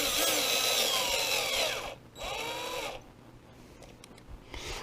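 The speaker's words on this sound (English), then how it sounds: "Mine is a drill, and I set the clutch to the" A power drill drives a screw into a steering servo for an X-Maxx RC truck in two whirring bursts, then stops, with small clicks and handling noises afterward.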